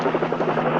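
A helicopter flies close overhead with a loud, steady rotor throb and a dense buzzing drone in this brief burst.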